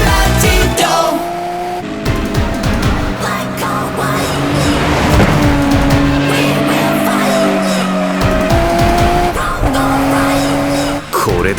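An animated Toyota 86 race where engines scream and tires squeal through hard cornering, layered with dramatic music and someone speaking over the near, continuous roar.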